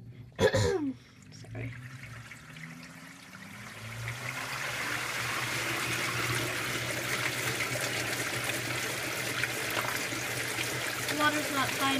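A brief throat-clearing sound, then water starts pouring and rushes steadily into the tub of an LG top-load washing machine on a normal cycle, a continuous filling hiss with faint mechanical hum beneath.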